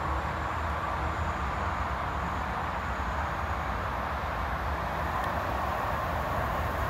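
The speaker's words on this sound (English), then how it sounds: "We've also got a fast train approaching." A fast train passing at Cardonald on the Strathclyde line, a steady loud broadband roar of wheels and rail noise that holds constant throughout without a clear build or fade, fairly close.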